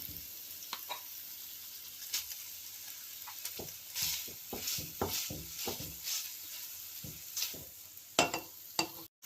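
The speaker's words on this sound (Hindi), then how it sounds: "अब हम इसमें कीमा डाल देंगे। कीमा डाल के हमने मीडियम फ्लेम रखना है।" Minced mutton keema fries in a pan over a medium flame with a spoon of oil, giving a steady close sizzle broken by scraping stirs and soft clattering taps, with no voices.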